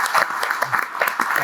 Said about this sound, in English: Can we just give Chandru a big round of applause for his time?